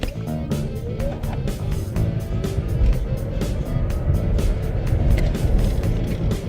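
A 2019 Nissan Leaf electric car accelerating hard down a drag strip, heard from inside as a continuous low road and tyre rumble with rising motor whine, fairly loud and steady, no voices.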